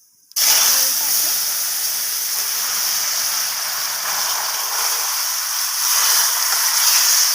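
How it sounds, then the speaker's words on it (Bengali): Rohu fish broth is poured into hot oil tempered with bay leaf and bursts into a loud, sudden sizzle that continues as a steady hiss for several seconds. "ঝোলটাকে ঢেলে দিলাম ফোড়নের মধ্যে"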